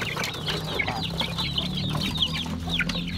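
Young chicks being treated for coryza peep steadily in a continuous chorus of high chirps over a constant low hum, close and loud, with no one talking.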